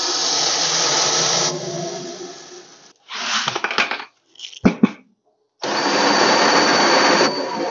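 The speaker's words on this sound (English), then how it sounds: "Take the lid off this one, put it underneath our mill, and we'll get to milling." A grain mill grinds malted barley for brewing. It makes loud bursts of rattling, gritty grinding broken by short gaps and clattering knocks, then runs continuously again.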